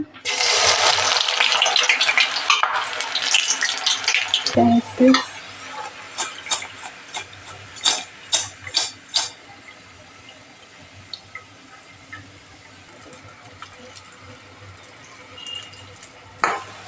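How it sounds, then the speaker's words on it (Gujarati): Potato namkeen hits hot oil with a loud, hissing sizzle that slowly settles, and a spoon stirs and clinks against the pan several times as the frying continues. "આપણે બધું આપણે તેલ મૂકી દીધું છે। આપણે ફ્રાય કરી લઉં।"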